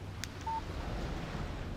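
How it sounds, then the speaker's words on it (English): A single short electronic beep from a phone text message alert in the Alan Wake video game. It is a soft, clean tone that sounds once over quiet ambient background. "Text message from Barry."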